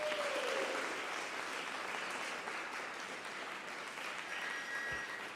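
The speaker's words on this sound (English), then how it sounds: "let's give a big round of applause" Applause from an in-person audience at a video contest award ceremony, a continuous wash of clapping heard somewhat distant and fairly quiet, staying even throughout.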